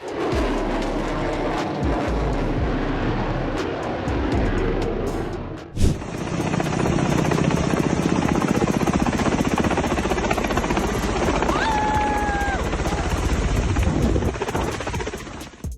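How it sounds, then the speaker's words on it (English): A helicopter flies over a beach, roaring loudly and continuously overhead, its rotor thrum steady and close, with a brief thump midway as the engine noise shifts. "When the helicopter decides to ruin your picnic, who allows helicopters on the beach side?"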